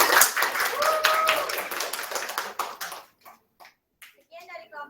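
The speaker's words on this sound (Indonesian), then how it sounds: "Kita beri aplaus." A classroom audience gives a short burst of applause, dense clapping that fades after about three seconds, followed by scattered quiet talk and a few light sounds.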